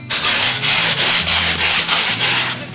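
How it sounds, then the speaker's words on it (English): Steady rasping sandpaper strokes on the wooden edges of a castle tower model, a close, continuous rhythmic rubbing with no talk. "I'm sanding the edges so it can be smooth."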